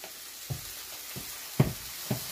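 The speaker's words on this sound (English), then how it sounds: "Once this is nice and hot, we're just gonna toss in some of the sauce." Spaghetti sauce with sausage hitting a hot pan, a few short sizzling and stirring bursts spaced about half a second apart over a faint steady background, fairly quiet and close, with no talking.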